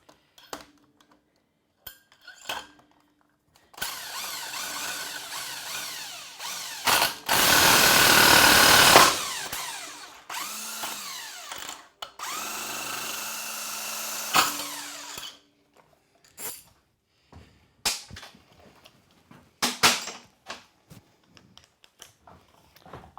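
Snowmobile primary clutch being pulled off with a clutch puller during summer storage prep: a loud sustained power-tool whine runs several seconds, with scattered clanks and rattles of tools before and after.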